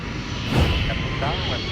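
Alaska Airlines jet arriving from Seattle at an airport, a broad steady engine roar with a brief swell, heard from a distance while a voice talks over it.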